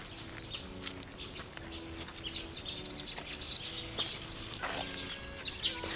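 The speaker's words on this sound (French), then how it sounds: "Vous les entendez, les tisserands, ces oiseaux qui ici donnent tout le sens à la nature" Weaver birds call by the Black River, with scattered high chirps and twitters from several birds at moderate distance over a steady outdoor background.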